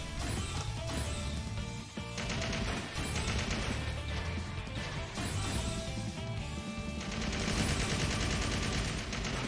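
Enemies fire guns in the Trails Into Reverie game, with rapid bursts of shots layered over loud, busy game music that runs throughout.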